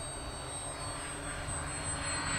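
An FMS FairRC Blue Jay four-channel beginner RC trainer airplane flying overhead, its electric motor giving a steady, moderately distant whine that holds level throughout with no talk.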